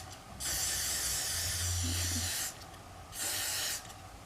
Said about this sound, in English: you just want to spray it right across your hairline